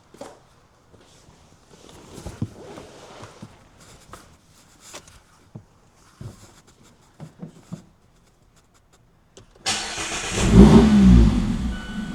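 A Mazda Miata engine starts abruptly near the end, preceded by quiet footsteps and small movements, then settles into a loud, close idle with a brief rev.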